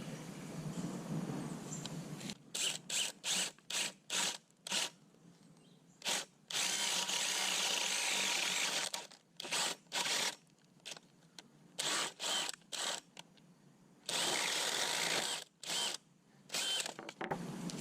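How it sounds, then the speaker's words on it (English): Power drill boring through timber eave wall plates during garage framing, in repeated short bursts separated by brief pauses, close and loud, with a longer sustained run near the end. "Got the eve wall plates drilled out and put down."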